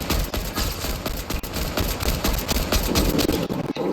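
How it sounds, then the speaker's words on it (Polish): A rapid volley of arrows is fired in a video game, a dense run of sharp repeated snapping shots over a busy, loud game soundscape. "Po co ty wystrzeliłeś wszystkie te strzały?"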